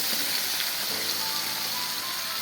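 Mixed vegetables dropped into hot oil and freshly fried spices in a home kitchen pan, giving a steady, loud, close sizzle that holds evenly throughout with no voices.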